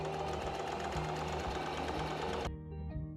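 A sewing machine runs fast and steady, closing fabric ties for a beginner's matching clothing set, a close whirring hum with a rhythmic needle pulse that cuts off abruptly near the end.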